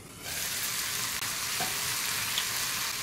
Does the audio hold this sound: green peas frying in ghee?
yes